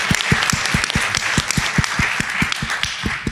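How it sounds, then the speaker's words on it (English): An audience applauding at an SXSW EDU panel session, a brisk crowd of clapping with sharp, evenly spaced individual claps standing out close by over the general patter. "Let's give her a round of applause."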